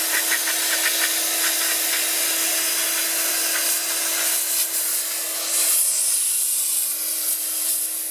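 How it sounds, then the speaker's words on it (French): Steady hissing of a steam cleaner spraying a car interior, with faint rubbing and tool noises and a brief louder burst of spray near the end. "Ah, je mets la vapeur. Donc là c'est la vapeur."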